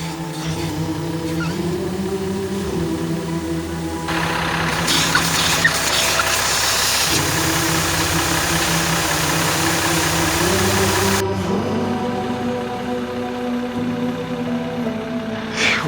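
A Jeep Gladiator EcoDiesel pickup with newly fitted upgrades rolls along an off-road trail, its diesel engine holding a steady mid-pitched drone with shifting tones as the truck moves, loud and close throughout.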